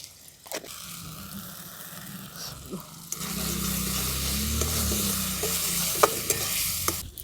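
A spice paste seasoned with salt and turmeric sizzles and fries in a pan for a Jangalmahal-style duck curry, with steady stirring and scraping throughout and louder, fuller frying after the first few seconds; no one speaks.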